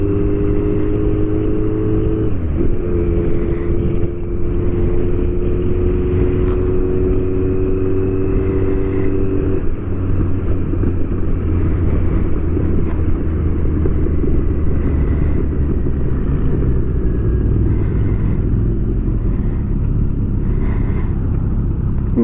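Kawasaki GTR1400 motorcycle fitted with a Delkevic full exhaust system, revving and pulling away in first gear; a loud, steady engine drone with rising whine and deep rumble, no talking.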